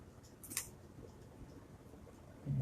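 Board game card packaging being cut open, with a brief sharp snip of scissors or a blade near the start, followed by faint handling rustles in a quiet room and a soft thump at the end.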